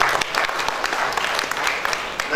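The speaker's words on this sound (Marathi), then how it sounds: "जोरदार टाळ्या झाल्या पाहिजे." Audience applause at a university lecture event, steady dense clapping from a crowd lasting the whole stretch, fairly close and even in level with no pauses.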